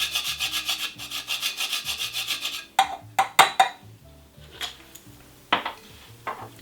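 Whole, previously used nutmeg rubbed against a grater for a pumpkin spice cake, giving a steady rapid rasping scrape for a few seconds, then a handful of sharper scraping strokes and light knocks, close and alone.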